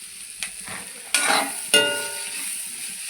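Ash gourd and potato peels fry in a pan, a soft steady sizzle punctuated by three distinct spatula knocks and stirs, each followed by a brief swell of crackling.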